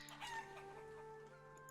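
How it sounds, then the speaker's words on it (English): Chickens cluck and crow in a farming village in the medieval game Life Is Feudal: Forest Village, with steady game ambience humming underneath the short, busy fowl calls. "Kill the chickens."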